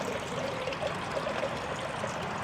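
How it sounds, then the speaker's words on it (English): Running water in a partly frozen northern Wisconsin creek during gold prospecting, a steady close trickle and stream flow that holds evenly throughout with no talk. "I gotta turn the water down"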